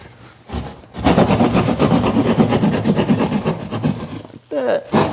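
Rasping back-and-forth sawing through drywall to cut an opening for an in-wall speaker, continuous close strokes over about four seconds after a short pause, then a brief pause and more cutting.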